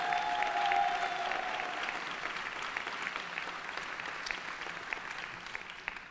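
Applause from an audience honoring women leadership award recipients, a dense, steady wash of clapping throughout that starts loudest and tapers slightly, with a brief faint tone early on.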